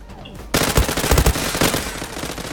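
Rapid automatic gunfire in the shooter game Zula bursts in after a quiet half-second, then a loud, close, sustained rattle of shots that keeps going to the end without talk.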